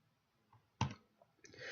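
A single sharp mouse click on a library website link, crisp and close in near silence, followed by a faint soft rustle.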